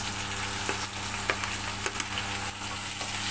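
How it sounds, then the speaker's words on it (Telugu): Onions fry in a pan after cumin seeds have crackled, giving a steady, fairly quiet sizzle with occasional light spatula taps and stirs throughout. "ఆనియన్స్ వేసుకొని బాగా దోరగా వేగాలి."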